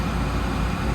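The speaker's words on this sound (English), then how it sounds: "can see here now the machine's revving at 1800 RPM." A machine's engine holds a steady, loud rev of 1800 RPM during a service desox, a continuous low rumble close by with no speech over it.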